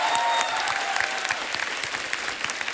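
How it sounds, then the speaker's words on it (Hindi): A TV comedy studio audience applauds, with dense, lively clapping throughout and a few sharper claps standing out close by. "जोरदार तालियां यार"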